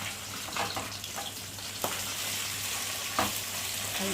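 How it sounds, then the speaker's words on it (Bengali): Pabda fish frying in hot oil, a dense continuous sizzle with sharp crackles and pops bursting out at intervals, close and fairly loud, no voices. "আর এই মাছগুলো এত ফাটে তেলে দেওয়ার সময়, ছিটকে হয় চোখে না হাতে"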